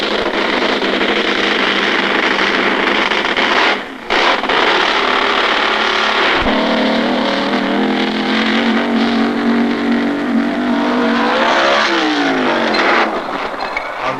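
A drag racing car engine roars loud and close at Atco, holding a sustained full-throttle blare with brief dips and a rising pitch sweep near the end, with no talk over it.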